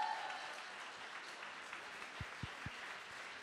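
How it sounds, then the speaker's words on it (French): Audience at a French conference applauding a guest performer, a steady, moderately loud wash of many hands clapping with a few sharper low thumps near the end. "Si vous voulez l'applaudir s'il vous plaît,"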